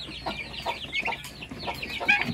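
Chickens, chicks and turkeys on a farm give short, repeated clucks and chirps close by, a busy overlapping chatter of bird calls with no talking.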